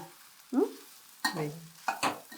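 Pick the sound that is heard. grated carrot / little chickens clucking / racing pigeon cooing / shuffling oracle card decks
grated carrot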